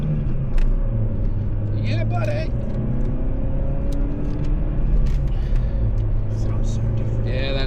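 A 25-year-old Ford Focus with a small Zetec petrol engine revving, a low rumbling drone with rising pitch sweeps, close by, while someone talks briefly over it.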